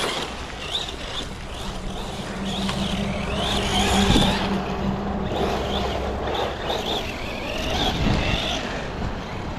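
An Arrma Senton RC car runs steadily and fairly loud for the whole stretch, with a buzzing motor whine that rises and falls as it drives, over broad rough background noise.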